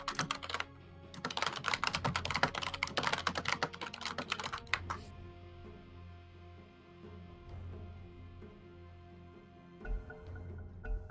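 Rapid clattering keystrokes on a computer keyboard during a Dota 2 game session, a busy burst of typing for about four seconds before it stops and leaves only a quiet background hum.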